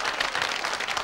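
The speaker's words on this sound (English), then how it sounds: "Will you please give a big round of applause," A studio audience at a social-club variety show gives a brief burst of dense, steady applause for a performer named Tricia, with no voices heard.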